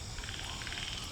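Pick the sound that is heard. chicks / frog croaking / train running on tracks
frog croaking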